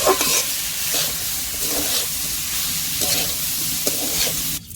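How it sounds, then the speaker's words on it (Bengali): Chopped onions dropped into hot oil for a dish of bamboo shoots cooked with prawns, giving a steady, close sizzle and crackle that fills the whole moment with no talking, cutting off sharply at the very end. "এবার পেঁয়াজ কুচিগুলো দিয়ে দিচ্ছি"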